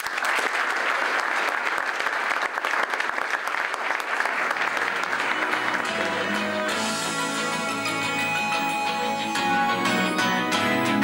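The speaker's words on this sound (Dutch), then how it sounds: "Applaus voor Henk Spaan." A studio audience applauds presenter Henk Spaan with loud, steady clapping, and music rises beneath it partway through until it carries on under the clapping.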